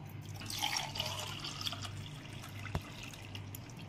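Amla juice pours into a measuring glass, a soft liquid trickle and dripping heard close and quiet over a low steady hum, with one sharp clink near the end.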